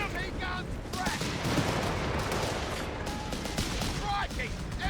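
Vickers machine gun firing in Company of Heroes 3, a World War II strategy game: dense, sustained automatic bursts mixed with explosions and battle noise, loud and continuous throughout, with speech-like chatter over the top.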